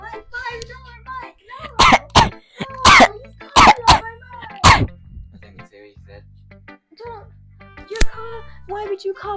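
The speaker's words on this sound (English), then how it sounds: "Why would you cough in my mic?" Several harsh coughs burst close into a microphone, loud and clipped, mixed with throat clearing, while people talk and laugh around them.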